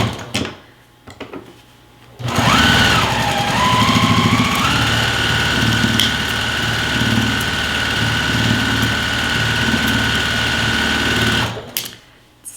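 A sewing machine stitches pillow pieces in a home studio, running in one loud, steady stretch of about nine seconds that starts and stops abruptly.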